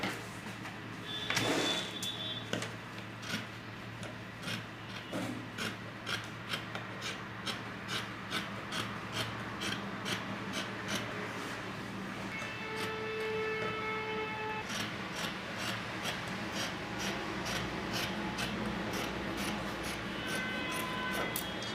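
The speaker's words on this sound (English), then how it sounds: "So then I can cut it up." Scissors cut through fabric for a puff sleeve, a steady run of rhythmic snipping and rasping strokes, close and fairly quiet, continuing throughout with no speech.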